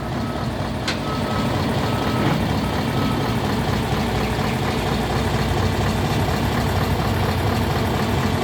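A heavy truck engine rumbles steadily while a faint reversing beep sounds intermittently, with a short hiss of air brakes.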